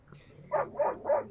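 A dog in a Last of Us episode gives three evenly spaced, mid-pitched barks in quick succession, close and clear over a quiet background.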